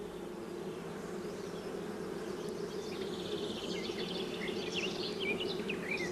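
Dense honeybee buzzing swarms steadily from an opened hive while a brood comb is lifted from its center, a continuous close drone with no voices.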